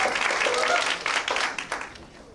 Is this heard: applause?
yes